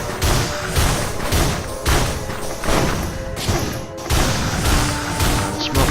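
Loud, dense gunfire from the Enforcer's shotgun and a smoke grenade in the video game Risk of Rain 2: heavy booming blasts repeat roughly every second over continuous battle noise.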